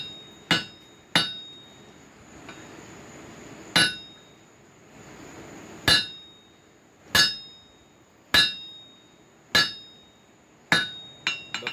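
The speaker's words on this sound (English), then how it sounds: "Put the head of our rivet in it and drive this down." A hammer drives a rivet down on slot jaw tong blanks set in an anvil's hardy hole, giving about ten sharp, ringing metallic strikes spaced a second or two apart, close and loud with no talk.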